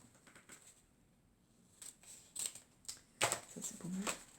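Scissors cut around a paper logo in a few short, crisp snips and rustles. The sound is close but quiet, with pauses between cuts.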